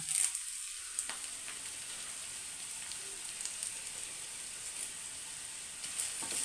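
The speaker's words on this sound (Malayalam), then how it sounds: "എന്നിട്ട് നമുക്ക് ഇത് ഈ പച്ചമുളക് ഇടാം എന്നിട്ട് നമുക്കൊന്ന് ഇളക്കാം ഒന്ന് അതിനകത്തോട്ട് രണ്ട് രണ്ട് കരിയാപ്പിലയും ഇടാം" Green chillies and curry leaves sizzle in hot oil for a Kerala egg thoran, a steady bright frying hiss with faint pops and occasional stirring, close and continuous.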